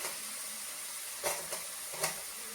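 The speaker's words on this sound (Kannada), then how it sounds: "ಸೊ ಇವಾಗ ಈರುಳ್ಳಿ ಹಾಕೋತಾ ಇದ್ದೀನಿ." Onions sizzle softly in hot oil in a pan on low flame, a faint steady hiss with two or three light clinks and scrapes of stirring.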